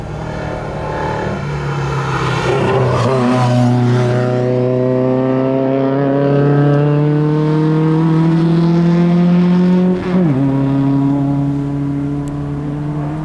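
A Lada 2101 Gruppe 2 race car on slick tyres drives through a corner, its engine a loud, close, steady drone that climbs in pitch, dips sharply on a gear change near the end, then holds.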